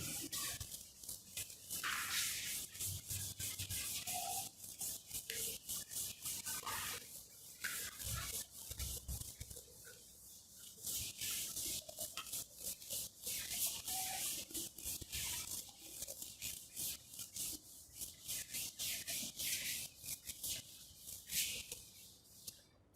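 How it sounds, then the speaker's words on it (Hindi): Steady rubbing on a board in a class 12 maths lesson, a soft continuous scrubbing with short repeated strokes, close and fairly quiet, with no voices. "इसको रब कर लेते हैं"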